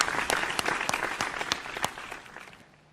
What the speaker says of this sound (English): a round of applause as he exits the stage